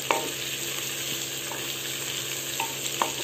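Garlic, ginger and green chilli sautéing in a pan, a steady close sizzle with a few faint scrapes and taps of a spoon.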